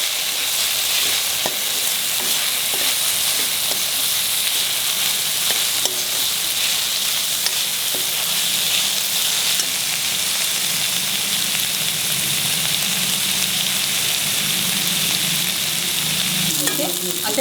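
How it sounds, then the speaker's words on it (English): Finely chopped tomato frying in a pan for prawn masala, a steady loud sizzle with occasional stirring scrapes throughout. "Fry this very well till the tomatoes are soft."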